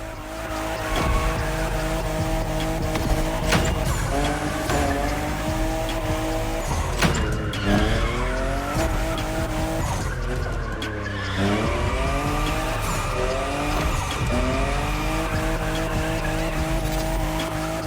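Toyota Supra fifth generation drifting in The Crew Motorfest game, a sustained engine roar rising and falling through gear changes with continuous tire squeal and skidding, loud and close, alone with music underneath.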